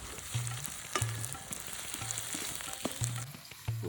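Onions fry in hot oil with bay leaves, dried red chillies and whole spices, a close, steady sizzle broken by repeated stirring scrapes and taps against the pan.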